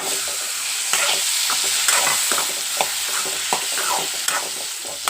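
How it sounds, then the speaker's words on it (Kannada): Paneer dry-roasting with turmeric, salt and chili in a hot pan, a steady close sizzle broken by repeated scraping stirs of a spatula, with no talking. "ಈಗ ಇದಕ್ಕೇ ಪನ್ನೀರನ್ನು ಹಾಕಿ ಸ್ವಲ್ಪ ಹಾಗೆ ಡ್ರೈ ರೋಸ್ ಥರ ಮಾಡಿ ತೆಗೆಯೋಣ"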